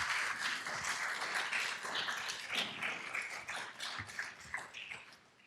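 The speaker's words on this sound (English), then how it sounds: "How about another round of applause for Mr. Rich Lesser here tonight?" An audience at an evening talk on artificial intelligence and environment gives a round of applause, a dense patter of clapping that holds fairly steady for several seconds, with scattered sharper claps.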